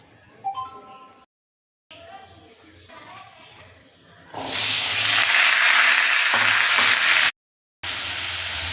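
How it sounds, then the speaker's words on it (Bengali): Ash gourd frying in a pan: soft clinks and quiet kitchen noise give way midway to a loud, steady sizzling hiss that continues to the end, broken by a brief gap. "চাল কুমড়োটা ভালো করে ভেজে নিয়েছি।"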